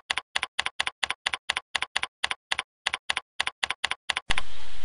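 Steady keystrokes on a computer keyboard, entering text into a text box, close and crisp in quick even bursts, ending with a brief patch of hiss.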